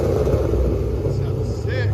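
A cammed stroker Pontiac GTO 6.0L V8 with SLP Loudmouth dual exhaust idles loud and close, its deep, uneven rumble running steadily throughout.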